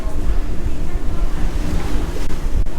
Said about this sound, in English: I can feel the wind is cooling you down slightly.